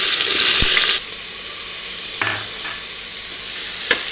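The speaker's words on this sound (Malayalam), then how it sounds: "ഇതിലേക്ക് നമ്മൾ പൊടിയായിട്ട് അരിഞ്ഞ ആ സവാള ഇട്ട് കൊടുക്കുക" Finely chopped onion drops into hot coconut oil in a pressure cooker and bursts into a loud sizzle for about a second. The sizzle then settles into a quieter, steady crackle broken by a few sharp clinks.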